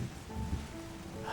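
Rain falling in the video game Terra Nil, a faint, steady patter and hiss with soft drips and a few thin tonal game sounds over it.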